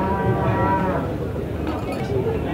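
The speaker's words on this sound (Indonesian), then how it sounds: "Ini adalah jenis sapi PO atau peranakan ongole dari Situbondo." A Peranakan Ongole (PO) cow from Situbondo, about 544 kg, lets out a long, loud, low moo lasting around two seconds at a cattle contest in Sidoarjo, with a busy background murmur.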